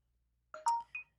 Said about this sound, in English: the phone that I was speaking about just went off because it reconnected